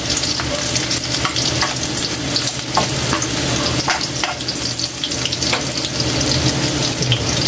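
Garlic and chili sautéing in a hot pan give a loud steady sizzle, with the scrape of stirring now and then and no one speaking.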